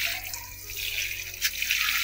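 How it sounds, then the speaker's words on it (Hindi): Water is poured onto a blackberry plant cutting, giving a steady, close splashing and trickling wash with a brief louder splash near the end. "इस पर पानी डालते रहना है।"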